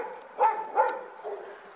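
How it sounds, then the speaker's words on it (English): Two sharp barks from a dog close by, about half a second apart, followed by a softer yip, all over a quiet outdoor background. "I don't know if they're really nasty dogs, but man, do they bark a lot."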